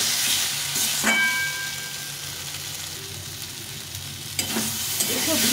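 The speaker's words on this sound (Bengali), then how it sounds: "ভাজা করলাটা দিয়ে দিই।" Fried bitter gourd tips into a pan of spiced potatoes and is stirred, with a soft steady sizzle, a metallic clank early on and scraping stirs near the end, close by and fairly quiet, with no speech.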